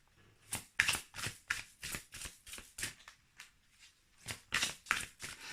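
Tarot cards shuffled and drawn by hand in a quiet room, a long run of crisp riffling bursts and soft slaps coming in a fairly steady rhythm, close and clear with no talking.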